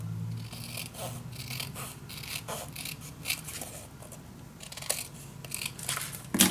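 Scissors snip and slide through paper while making a paper bag mini album, a string of soft, close cuts and rustles at a low level with no voices.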